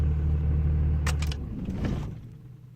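Truck engine on a farm shutting off: a steady low idle rumble cuts out partway through, followed by brief clicks and rattles and a fading settle into near quiet.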